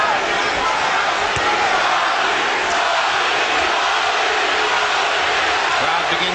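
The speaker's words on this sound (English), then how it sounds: "Crowd begins to chant, Gatti, Gatti, Gatti." Boxing arena crowd at the Gatti versus Ward fight, a dense, steady roar of many voices that rises into a rhythmic chant, loud and continuous throughout with no break.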